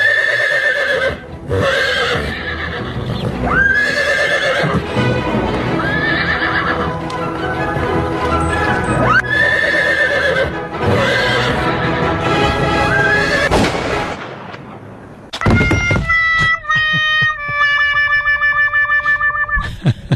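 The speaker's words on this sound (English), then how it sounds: "I like the fact that the whole time the horse was running in that clip, it was whinnying." A running horse whinnies again and again with steady hoofbeats beneath, loud and heavily processed with distortion and effects, and then gives way to a different, tonal effected passage near the end.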